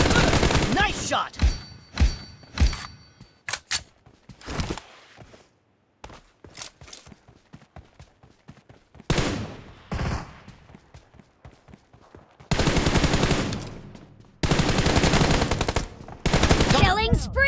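Sharp bursts of rapid automatic gunfire and single shots crack out in a shooting video game, arriving in loud clusters with short gaps between them and in long sustained volleys toward the end.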